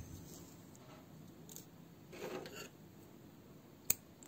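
Scissors snip through thread during Turkish needle lace (iğne oyası) work, a soft brief cut or two followed by a single sharp click, close and quiet with no talking.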